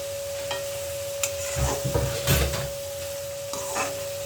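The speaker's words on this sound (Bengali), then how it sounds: "মশলাটা এবার কষানো হচ্ছে।" Spice paste sautés with onions fried red in oil in a pan for an egg-dumpling curry, with soft sizzling and a few spatula scrapes and stirs in short bursts over a steady hum.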